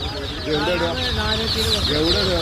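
Chickens cluck and squawk continuously at a crowded, noisy poultry market in Kottakkal, with voices murmuring underneath.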